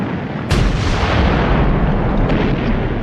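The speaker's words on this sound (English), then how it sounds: "When the British guns opened up on the Somme on the 24th of June 1916, the windows rattled in London 160 miles away." Massed British artillery of the 1916 Somme bombardment on the Western Front, a loud dense booming roar that erupts half a second in and rumbles continuously with no speech.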